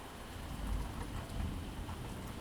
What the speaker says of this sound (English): there's a bit of thunder